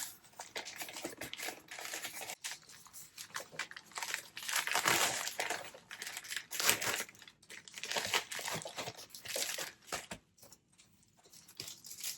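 Close, irregular crinkling and ripping of packaging being cut and torn open with scissors, with bursts of tearing and crumpling separated by brief pauses.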